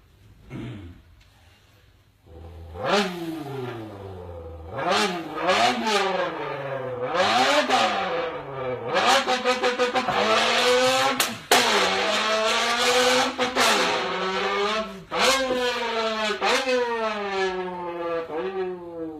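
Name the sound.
mouth imitation of cars in a drag race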